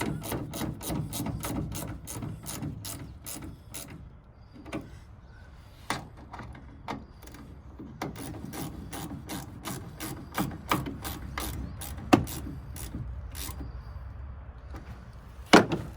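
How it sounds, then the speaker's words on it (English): A wrench tightens a turn signal bulb screw with rapid, even ratcheting clicks at close range, pausing briefly and then resuming in steady runs with a few louder clacks. "now let's tighten it down with the wrench"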